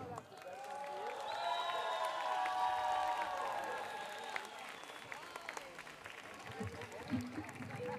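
Crowd applause and cheering from a live festival concert audience at Electric Nights Festival in Brezoi swells under lingering stage tones, with shouts and whistles scattered through it, fairly distant and moderate in level.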